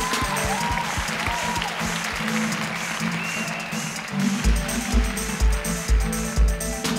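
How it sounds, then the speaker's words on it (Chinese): Studio audience applause fills a Taiwanese TV variety game show, a dense sustained clapping wash over a rhythmic low backing beat that grows more pronounced toward the end. "掌声鼓励一下！"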